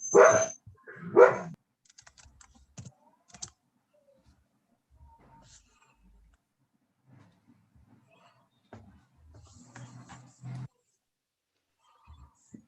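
Two loud, close dog barks open the passage, followed by sparse quiet tapping and faint talk from a person in an online webinar setting, with long near-silent gaps.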